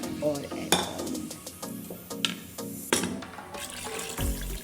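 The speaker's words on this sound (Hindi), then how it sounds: "तो 3 कप यानी 3 बाउल पानी मैंने इसमें डाल दिया है" Water being poured into a pot of chicken pulao with rice, splashing and sizzling against the hot contents, close and fairly loud with clattering and stirring noises.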